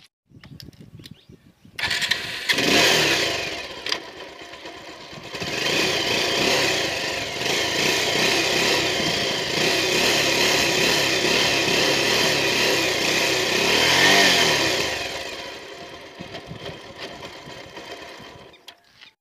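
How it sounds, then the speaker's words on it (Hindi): A motorcycle with a vibrating mudguard starts up and runs, its engine settling into a steady rattling idle for about twelve seconds before cutting off, heard close with no talking. "जब मैंने बाइक को स्टार्ट किया तो बाइक में झटके लगे"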